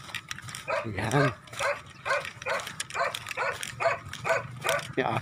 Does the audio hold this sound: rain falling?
no